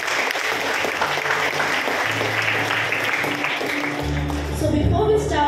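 Audience applauding at a Grandparents' Day celebration in a church hall, steady dense clapping throughout that thins toward the end as a low hum and faint voices come through.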